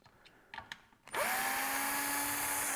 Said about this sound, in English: You want to be a little careful if you're using a power driver like I am here that you don't slide off